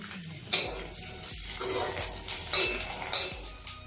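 Diced capsicum stirred in a pan over a high gas flame for chilli chana, with repeated sharp clanks of a spatula against metal over a soft, steady sizzle.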